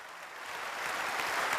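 Warm audience applause greets Pope Francis at a meeting with civil authorities in Azerbaijan, a dense, steady wash of many hands that swells gradually louder as it continues.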